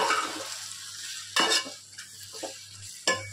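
Chopped ivy gourd and green chillies frying in a pan are stirred, with a soft sizzle under a few sharp scrapes and clinks of the spoon on the pan.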